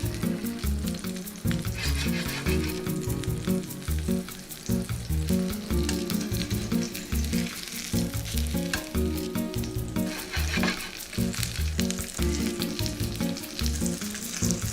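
Breadcrumb-coated food fries in oil in a pan, producing a loud, continuous close-up sizzle and crackle that persists steadily without any talking.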